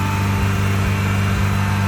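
A 1980 Ferrari 308 GTSi engine idles cold just after start-up, a steady close, low burbling drone that holds even with no misses across the short stretch.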